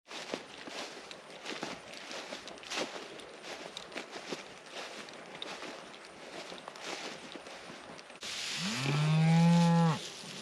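Rustling and shuffling footsteps on a hay pasture, then a single loud, drawn-out cow moo close by near the end.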